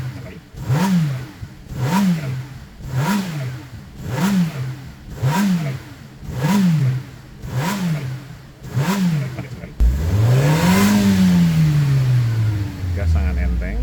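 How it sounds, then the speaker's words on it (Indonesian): Toyota Innova Reborn engine revved in eight short, evenly spaced bursts, each rising and falling quickly with exhaust roar, then one longer, louder kick-down rev that climbs and slowly winds down, close and loud. "kita bisa mendengar deru knalpot yang berlawanan sampai bisa di kick down"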